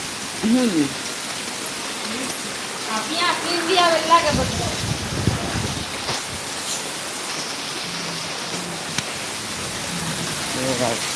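Rain falls steadily with water pooling outside, making a constant, close hiss that lasts throughout, with faint voices and a few brief sounds mixed in underneath.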